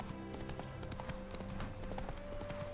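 Roach the horse gallops in The Witcher 3, a steady run of rapid hoof clip-clops over game music, with no talking.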